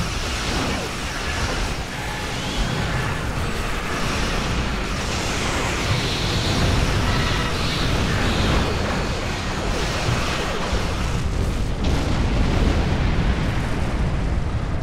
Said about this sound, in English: Look how many torpedoes I just launched with the spread.